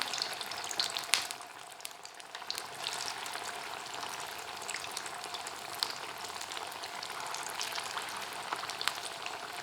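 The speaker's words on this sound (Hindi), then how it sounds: "इनको फ्राई करते हैं। ऑयल में इनमें कबाब ऐड डालूँगी।" Chicken shami kebabs frying in hot oil give off a steady, dense sizzle with faint crackling pops, close and continuous, with no voices over it.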